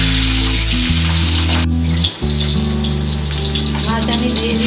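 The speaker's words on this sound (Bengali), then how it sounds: "কড়াইয়ে আমি সর্ষের তেল গরম করতে দিয়েছি, তেল গরম হয়ে গেছে, এখন আমি মাছগুলো ছেড়ে দেব।" Pabda fish frying in hot mustard oil in a kadai, a bright, steady sizzle and hiss that runs beneath prominent background music.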